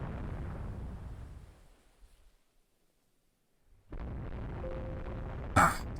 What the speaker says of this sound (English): That was a long range torpedo.